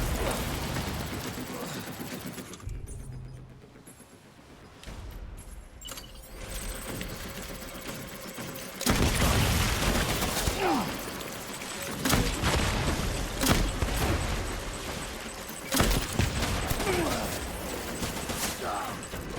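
Gunfire in the video game Death Stranding comes as scattered sharp bursts over a noisy mechanical background of rattling and clatter, louder in the second half.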